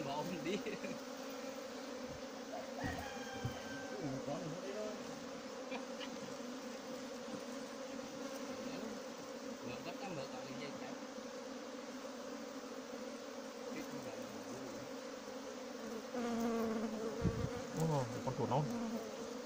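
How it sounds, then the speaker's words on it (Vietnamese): A swarm of honeybees hums steadily and loudly throughout a rooftop honey harvest, with occasional knocks and faint voices in the background. "Rồi một số ong đang bay ở cái máy đây các bạn."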